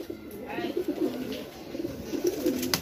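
Racing pigeons coo in soft, repeated throaty rolls close by, a low rhythmic cooing that carries on under faint background noise.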